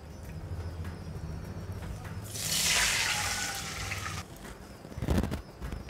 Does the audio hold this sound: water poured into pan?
yes